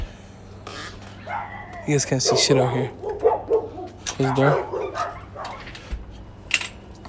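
Dogs bark and yip in a house, several close, sharp barks in bursts while a man hushes them and talks over the noise.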